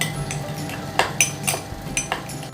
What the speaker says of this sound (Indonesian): Aduk hingga homogen.